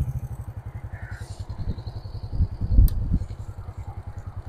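A 2024 Cooper RS50 motorcycle engine idles after starting, a quick steady putter close by with a brief rise in revs and a sharp click partway through.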